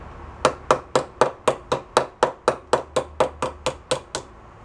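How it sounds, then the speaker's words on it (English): Metal hammer blows on a part from a 1972 Honda SL125 motorcycle resting on a sandbag, about fifteen sharp, evenly spaced strikes in quick succession, close and loud with short decays. "I got the sandbag out too, just in case I want to start hammering on that."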